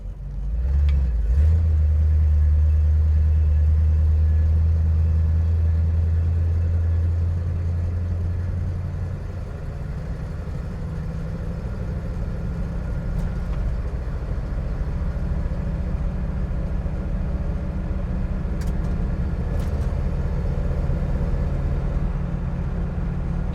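A 1956 Ford Fairlane Victoria engine hums steadily while driving at about 30 mph, a low rumble that swells at the start and then settles into an even, continuous drone.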